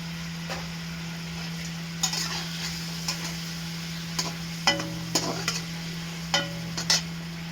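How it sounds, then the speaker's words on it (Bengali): Pieces of fried boal fish are stirred in a hot pan with a steady close sizzle, broken by intermittent scrapes and clinks of a utensil against the pan, over a faint background hum. No one speaks. "এবার দেখুন আমি ভেজে রাখা বোয়াল মাছগুলো দিয়ে দেবো"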